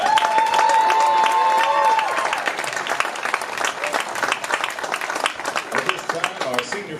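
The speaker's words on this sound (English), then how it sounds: "let's give one more big round of applause to this group of athletes." A stadium crowd at a high school football senior night claps and cheers for the athletes, loud at first and then settling into a thinner, lingering applause. A brief tone sounds early on.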